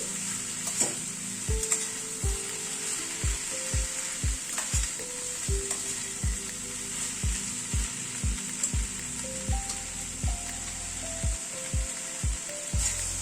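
Grated coconut and chickpeas stirred in a frying pan: a spatula scrapes the pan in a steady rhythm, more than a dozen close, distinct strokes over a continuous light sizzle, with no voices.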